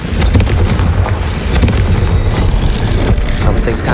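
Spell explosion in a video game, a loud sustained booming rumble with dense low-end energy and crackling bursts, staying heavy and continuous for several seconds.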